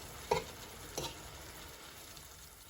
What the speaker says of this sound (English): I'm just going to give this a quick stir.